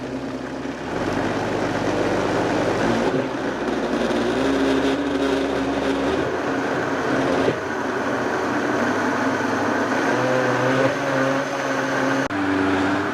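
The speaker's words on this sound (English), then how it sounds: "we're going to go ahead and stop the blender" A kitchen blender whirs through a birria chile sauce thinned with beef broth, a loud continuous motor drone with shifting pitch as the blend churns, heard alone without talk.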